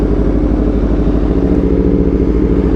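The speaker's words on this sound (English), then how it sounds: "so you guys can hear the exhaust sounds more" An Aprilia RSV4 fitted with an SC-Project CRT exhaust, riding on a short rainy ride, gives a steady, close, loud engine drone with a low rumbling exhaust note throughout, with no talking.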